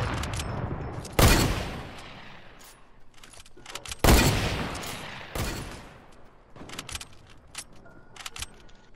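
Gunfire in the Fortnite battle royale video game: two loud, sharp shots several seconds apart, each followed by a decaying boom, with scattered lighter cracks and rattles in between.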